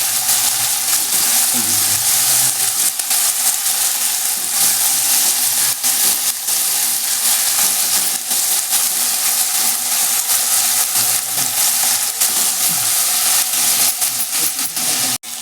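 Onion and tomato frying in a pan for misal pav, stirred continuously: a loud, dense hiss and sizzle that holds steady for the whole stretch, with faint scraping under it.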